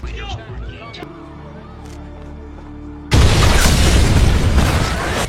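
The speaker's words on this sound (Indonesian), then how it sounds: "Di luar Gedung Putih, tiba-tiba saja terjadi ledakan yang membuat semua turis yang ada di sana berhambur berlarian." A sudden explosion erupts outside the White House in a film scene, a loud broadband blast cutting in after quieter dialogue-like sound and sustaining as a roaring, crowd-tinged rumble.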